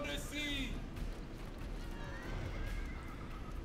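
Horses whinny loudly in a Rome: Total War battle, a sharp neigh at the start and a fainter drawn-out one later over a bed of battlefield noise and hoof clatter.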